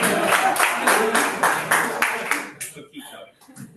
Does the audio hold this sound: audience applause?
yes